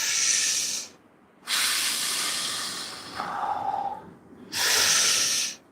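Heavy Wim Hof–style breathing, with three long, loud, hissing breaths close to the mic separated by short pauses and a softer, airier breath in between.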